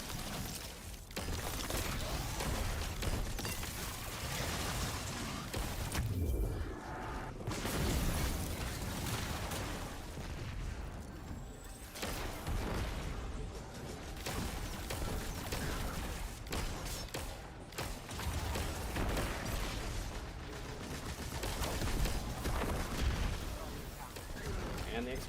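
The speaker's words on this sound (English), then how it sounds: "careful of the explosions" Video game explosions and bursts, joined by exploding barrels, rumble almost without break in a dense, loud wash, with a voice talking over them at times.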